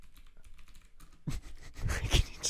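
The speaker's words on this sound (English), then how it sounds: "I'll do my clicky keyboard. It's like" Rapid clicking keystrokes on a clicky mechanical keyboard begin a little over a second in and grow louder and denser, close to the mic during a podcast recording.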